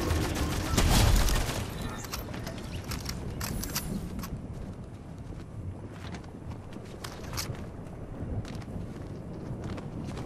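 Gunfire shooting through wooden builds in Fortnite: rapid crackling shots with sharp hits, loudest in the opening seconds, then continuing as a steady rattle of bursts against wind-like background noise.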